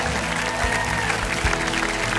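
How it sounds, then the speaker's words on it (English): A church congregation applauds and cheers in a dense, steady wash of clapping and voices that fills the room without a break. "Never get tired of clapping your hands and cheering for so many people that are stepping into a powerful new beginning."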